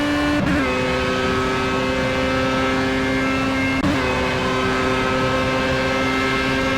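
A Formula A race car engine in Project CARS at Road America holds a high, steady whine at speed, with two quick upshifts breaking the tone. The sound stays loud and continuous throughout.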